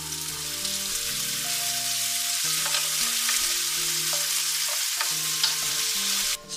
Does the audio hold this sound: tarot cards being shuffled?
no